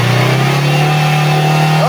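A Toyota Vios engine, being checked for misfiring, drones loudly up close in a short burst, its pitch climbing slightly at the end as the revs rise.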